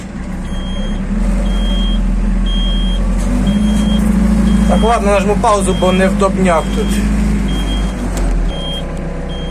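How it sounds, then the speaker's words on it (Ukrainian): A regular high-pitched reversing beep from an Iseki Japanese mini tractor with a tiller pulses steadily over a loud idling engine rumble, while someone talks briefly partway through. "цей сигнал пікає, означає, що я задню здаю"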